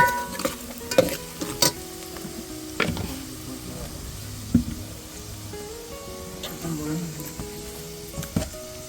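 Spices frying in a pan over a wood-fired stove, a sizzle under repeated knocks and scrapes of a stirring utensil, with a voice speaking at times.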